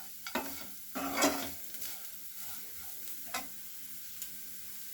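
Onion masala frying in a pan for home cooking, with a steady low sizzle broken by a few sharp spatula scrapes and stirs, close and fairly quiet, no talk.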